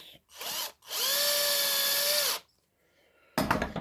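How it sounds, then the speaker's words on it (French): A small cordless screwdriver drives little screws into the wooden scale of a Laguiole knife handle, giving a short whir followed by a longer, steady high-pitched whine, then a pause and a clatter at the end. "j'ai vissé le premier vis. Deuxième vis."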